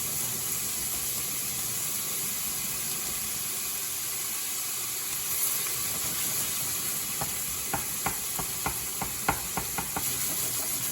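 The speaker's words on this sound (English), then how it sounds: "Let that fry up." Prosciutto and half a stick of butter frying in a pan, a steady hiss of sizzling throughout with a few sharp clicks of stirring near the end.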